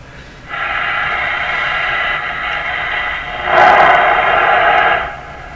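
Hissing shortwave static from a Canadian General Electric JK-66 radio with a faint buzzing tone, growing louder and rougher midway before dropping back, no voices.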